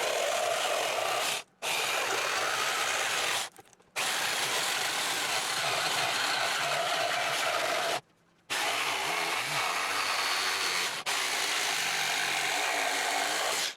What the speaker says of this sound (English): we'll try to trace this line with the jigsaw and make this hole about 1/4 inch larger total